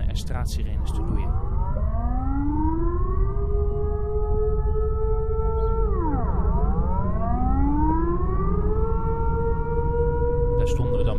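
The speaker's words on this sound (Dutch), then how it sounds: "Enkele ogenblikken daarna begonnen er straatsirenes te loeien." Civil defense street sirens wail in Heijplaat after a loud bang at a Shell gas leak and fire, several tones rising, holding, dropping and climbing again, loud and sustained over a low rumble.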